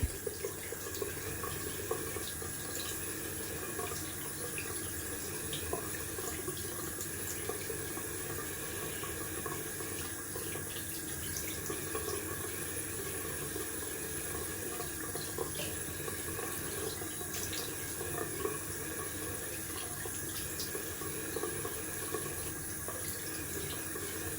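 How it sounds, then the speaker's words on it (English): Tap water runs steadily at a barbershop sink for a cold rinse after a wet shave, a continuous faint splashing flow with no talk over it. "We are going down for a cold water rinse"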